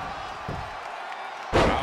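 A crowd cheers during a WWE 2K20 Last Man Standing match between Becky Lynch and Sasha Banks, a broad arena roar that swells suddenly near the end after a sharp impact, with a voice talking over it.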